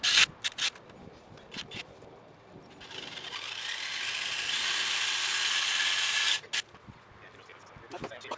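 Power drill boring a mounting-bolt hole for a front splitter on a 10th-generation Honda Civic Si, a steady loud whine of about four seconds between short bursts and handling noise.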